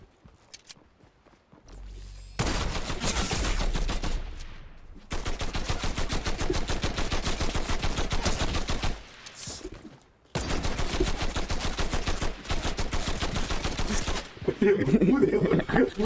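Rapid bursts of automatic gunfire in the video game Fortnite, loud close volleys separated by short pauses, with a brief voice at the end.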